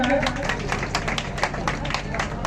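An audience claps in dense, even rhythm at a quiz competition held for Saraswati Puja, close and steady, with a host's voice running over the applause.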